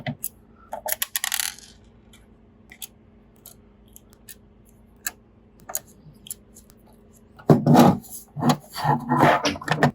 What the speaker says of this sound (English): We'll flip it over and we'll remove the remaining bordering screws, the silver ones.